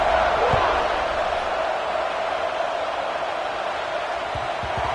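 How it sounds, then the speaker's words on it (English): Stadium crowd in College Football 26 buzzing with a steady, dense roar that holds at an even level throughout, with a few low thumps near the start and end. "this crowd is buzzing after that last score"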